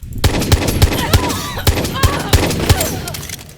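Gunfire in Far Cry 6, a rapid burst of loud, evenly spaced automatic shots with a reverberant tail, sounding close, with a voice briefly heard under the shots.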